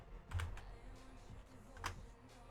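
Quiet typing on a computer keyboard, a few soft scattered key clicks with a couple of slightly sharper taps, close and faint with no talking.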